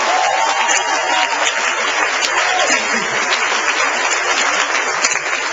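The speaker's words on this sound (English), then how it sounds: "Let's give them a huge round of applause." Audience at a Ripples of Hope dinner applauding, a loud, dense, continuous roar of many hands clapping with no pause from start to finish.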